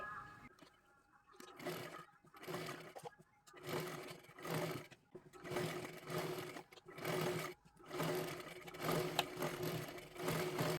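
Sewing machine running in bursts as it stitches along the edge of a cloth handkerchief for a puja plate, made from blouse pieces; repeated whirring runs of a second or so, close and steady, with short pauses between.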